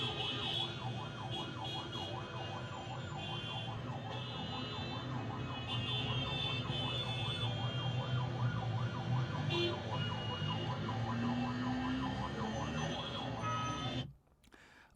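Outdoor street traffic rumbles steadily while a wailing emergency siren sweeps up and down throughout, picked up by an indoor dialog microphone placed on the left side; the sound cuts off abruptly near the end.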